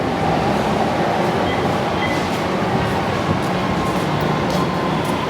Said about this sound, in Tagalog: Sasakay ko na sa MRT. Ayan na.